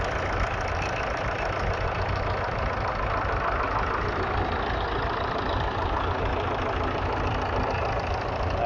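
A 1951 Diesel Major tractor engine idles at an outdoor steam rally, a continuous rough mechanical rumble mixed into dense, steady background noise.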